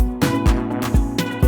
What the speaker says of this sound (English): So it's the clap, and then it sounds like this.